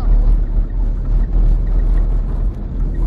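A car rolling across frozen tractor tracks on the ice of a snowy Scottish loch gives a steady, close, loud low rumble with continuous road-and-tyre texture and no talk.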